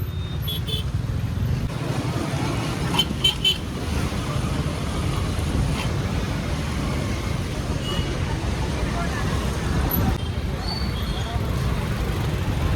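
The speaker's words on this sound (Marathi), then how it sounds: "आलो, ट्रॅफिकच जाम आहे एवढा, सगळ्या पाठी ब्रिज पण जाम आहे" Jammed road traffic near a bridge, heard as a continuous low rumble of idling and moving vehicles with a few brief higher tones like distant horns. A voice speaks over it.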